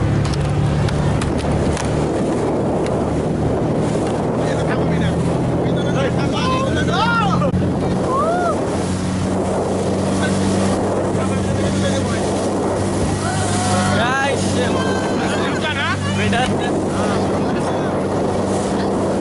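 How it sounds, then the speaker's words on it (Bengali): A speedboat engine drones steadily and loudly as the boat sets off on a picnic outing to Suborno Gram in Narayanganj, with wind buffeting the microphone and people talking over it throughout. "এই আমাদের স্পিড বোট ছেড়ে দিয়েছে।"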